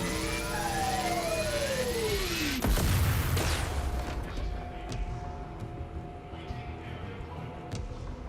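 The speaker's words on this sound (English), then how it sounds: "And kaboom." Explosion in Watch Dogs Legion: a sharp boom cuts through dense game sound with sirens, followed by a rumbling decay and scattered debris-like crackles, set against a continuous background of city noise.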